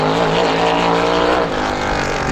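A supermodified race car on its time-trial lap at Star Speedway roars loudly and steadily at high revs, a dense engine drone close by that eases slightly near the end.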